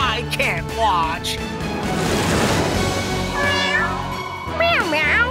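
Several high, sliding cartoon cat meows ring out near the start and again near the end, separated by a stretch of noisy background clatter, in a PAW Patrol puzzle game.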